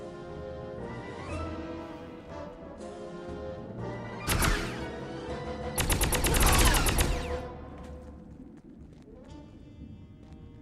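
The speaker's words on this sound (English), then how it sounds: "Somebody's shooting at me." Gunfire in the PC shooter Contract J.A.C.K. from 2003, with short bursts of rapid automatic shots cutting through a droning game soundtrack, the longest and loudest burst coming near the middle.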